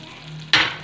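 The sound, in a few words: oil sizzling in pot with cooked mutton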